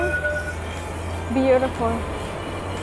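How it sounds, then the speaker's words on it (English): A train rolls past on a Jerusalem street with a steady low rumble and a brief rising squeal from the wheels, while someone speaks nearby. "You can see the train"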